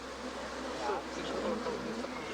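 Honey bees at a hive entrance make a dense, continuous buzz from many insects at once, close and steady, with no talk.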